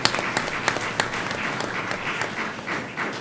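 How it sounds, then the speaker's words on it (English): Audience applause fills a school district governing board meeting, a steady wash of many hands clapping at moderate loudness throughout, with no talking over it. "So, round of applause."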